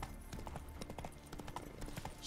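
Horse hooves clip-clopping in a video game, a quick uneven run of close, crisp hoofbeats with faint background music beneath.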